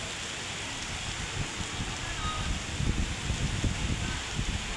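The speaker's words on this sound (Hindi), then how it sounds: "ये देखो बहुत तेज वाली बारिश आई" Very heavy storm rain beating down, a thick continuous hiss with scattered low drops and splatters striking nearby surfaces, steady and close from start to finish.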